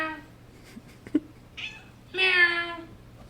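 A cat meows twice, with a short faint call before a longer, louder drawn-out meow near the end, close by in a quiet room.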